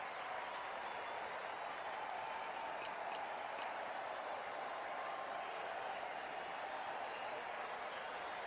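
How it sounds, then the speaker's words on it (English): Stadium crowd applause in the video game Cricket 24, a steady wash of clapping and crowd noise under commentary. "already the crowd is up and about"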